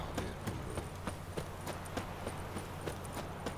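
Horse hooves clip-clop at a steady walking pace in The Witcher 3 video game, the even, moderately loud beats ringing out over a low ambient hum.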